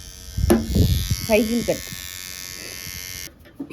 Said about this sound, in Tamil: எல்லாம் ட்ரிம்மர் போட்டு எடுத்தாச்சு.